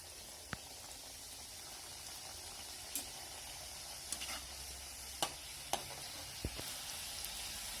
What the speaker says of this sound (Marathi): अशा प्रकारे उरलेल्या चंपाकळी पण आपण तळून घेऊ.